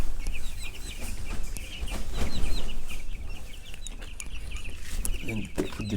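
Broiler chickens in a poultry house cluck and chirp continuously as a dense flock, with bumps and handling noise from nearby work over a steady background.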